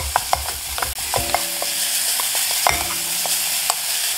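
Ground meat for Italian meat sauce sizzles and crackles in a pot while a spatula scrapes, breaks up and stirs it in irregular strokes, close up, with no talking.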